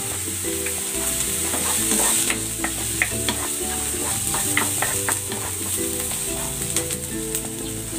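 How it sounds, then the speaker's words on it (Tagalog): Onion and garlic sauté in a pan with a continuous close sizzle, scattered crackles and stirring scrapes throughout, over a low steady tonal background. "Gigisa ko na rin tong sibuyas. Lagay na rin natin tong bawang."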